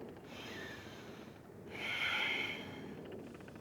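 A slow, audible yoga exhale through the nose or mouth during a class for hot weather, a soft breathy rush that swells briefly in the middle of the stretch and then fades, close and fairly quiet, with no talking.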